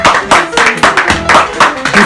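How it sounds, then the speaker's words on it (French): A small audience claps for a shoemaker, sharp uneven hand claps arriving in quick bursts, close and fairly loud, with some voices mixed in. "Encore une fois, je tiens à l'applaudir"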